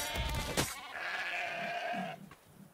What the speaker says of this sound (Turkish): Abi bu koyunlar çok ya.